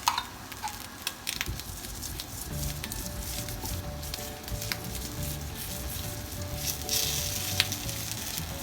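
Ghee sizzling steadily under a palak paneer paratha in a hot pan, a continuous close crackle and hiss with occasional sharper pops, no talking.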